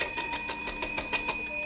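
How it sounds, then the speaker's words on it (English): A small night bell rings at a frontier town sheriff's office, a series of bright metallic dings in steady rhythm with sustained high tones, moderately loud and with no talk over it. "Is that the night bell?"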